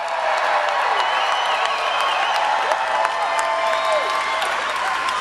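Large rally crowd in Melbourne, Florida applauding and cheering, a loud continuous wash of clapping and voices with some whistles rising through it.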